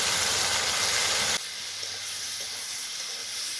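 Vegetables fry in a pan with green chili paste, a loud steady sizzle that drops to a softer, continuous hiss partway through, with no voices.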